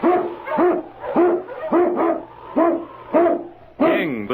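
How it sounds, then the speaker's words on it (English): Sled lead dog in an old-time radio drama, barking about seven times in a steady, loud rhythm with a few howling yelps at the end, up close and alone. "King, the swiftest, strongest of Eskimo lead dogs, blazes the trail through storm and snow"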